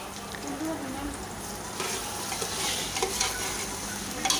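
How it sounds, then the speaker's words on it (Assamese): Scraping stirring of frying rice in hot oil with a steady sizzle, the scraping strokes growing busier toward the end. "এইখিনি দি মেলি অকণমান লৰাই লৰাই ভাজিব লাগিব, যাতে চাউলখিনি লাগি নধৰে তলত।"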